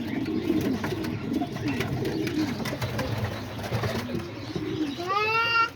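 Homing and roller pigeons coo in a loft, several overlapping low throaty calls running steadily throughout, close and fairly loud, with a brief chirping sweep near the end.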